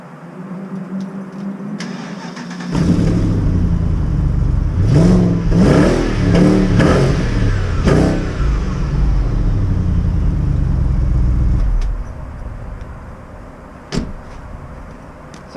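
A BMW X5 fitted with a new Remus exhaust starts up and runs, its engine rising to a loud, steady idle with several throttle blips before cutting off, followed by a brief faint knock.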